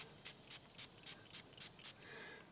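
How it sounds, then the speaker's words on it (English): Short hissing bursts of hunting scent sprayed from an aerosol can onto yaupon brush outdoors, seven quick evenly spaced puffs close by, followed by a slightly longer, softer hiss. "I'm going to spray a little on the yopon."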